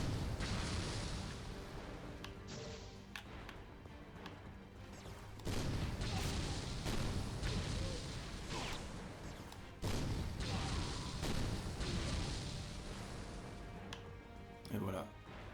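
Cannon blasts and crashing impacts in the action game Ninja Gaiden Sigma 2, a series of heavy booms and explosions layered over continuous battle noise.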